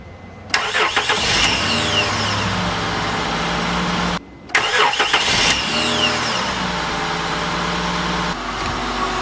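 An early-2000s Honda Odyssey with a newly replaced starter cranks and fires twice: each start is a short whirring crank that catches into a loud, steady idle, cut off briefly between the two tries.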